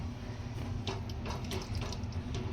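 Water is poured into a pan of fresh cashew curry with a soft, continuous splashing trickle, faint and steady throughout.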